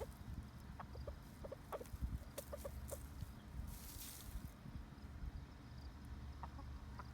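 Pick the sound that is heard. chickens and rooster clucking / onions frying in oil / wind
chickens and rooster clucking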